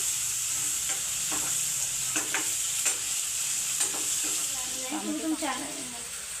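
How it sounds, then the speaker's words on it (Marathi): A pan of mutton curry with tomatoes being stirred, a constant loud sizzle and hiss under repeated scraping and clinking of the spoon against the pan, with brief background voices. "आता याला हलवायचं आपल्याला."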